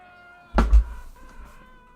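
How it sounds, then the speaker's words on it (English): A single short, snarling monster growl or screech from a 1959 film bursts out, then fades into a quiet tonal hum. "That's the sound of our monster, by the way."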